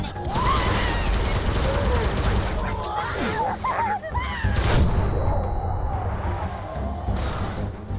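Gunfire in the Halo Reach game while shooting at rats, with dense shots and effects running across the whole stretch under voices and game sound.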